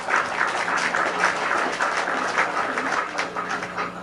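Seminar audience on fertility clapping for themselves, a sustained and fairly even wash of many hands applauding over a low background hum.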